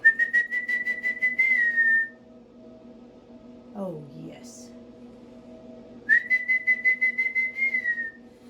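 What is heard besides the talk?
person whistling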